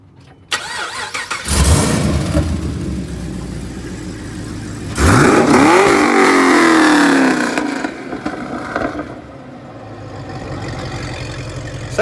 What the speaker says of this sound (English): Sounds okay for a V6.